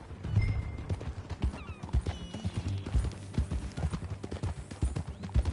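Horse hooves clip-clop in a quick, steady rhythm on hard ground, close and continuous, with a faint brief whinny early on.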